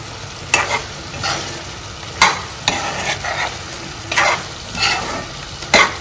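Chicken with gongura leaves sizzling in a pan, with a soft steady fry punctuated by several sharp scraping stirs of a spoon against the pan at irregular intervals, close and without speech.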